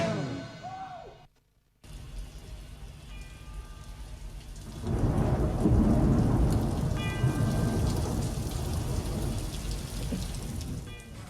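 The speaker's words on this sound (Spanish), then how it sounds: "Llueve, se puso gris, se oscureció" Steady rain falls with deep thunder rumbling in a gray, darkening storm, the downpour swelling louder midway and holding as a dense, continuous wash with rolling low booms.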